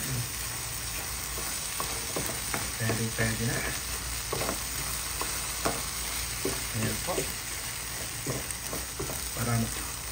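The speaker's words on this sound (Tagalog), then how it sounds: "pinagsabay ko na ang ating itlog at ang ating onion leaves para maluto po silang dalawa" Eggs and onion leaves fry with sautéed tomatoes in a pan, sizzling steadily while a spatula stirs and scrapes; a voice speaks briefly.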